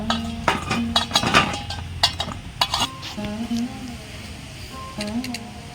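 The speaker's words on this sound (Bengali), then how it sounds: "সব পটলগুলো আমি এইভাবে কেটে নিয়েছি একটা গামলার মধ্যে ঢেলে নেব" Cut pointed gourds tumble into a bowl with a series of irregular clinks, knocks and rattles, close and fairly crisp, with a faint voice murmuring in the background.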